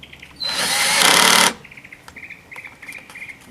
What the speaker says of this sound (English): I'll slowly drill the hole